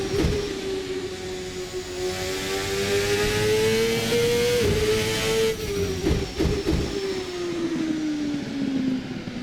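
A Champ Car racing engine in a video game at Brands Hatch, 2003-era open-wheeler, holds a steady high-revving drone that climbs and dips through gear changes and a corner, loud and continuous with no talking.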